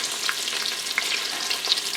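Food fries in an Instant Pot for a chicken and sausage jambalaya, with red onions in use, giving a steady close sizzle through two seconds, marked by a few soft crackles and light stirring scrapes.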